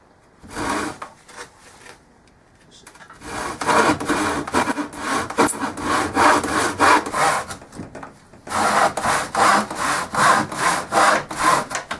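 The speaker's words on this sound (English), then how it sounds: "we're going to just use a regular hand saw here" A regular hand saw cuts through wood in steady rhythmic back-and-forth strokes, close and raspy, starting with a few tentative pulls, pausing, then settling into a fast, even sawing rhythm.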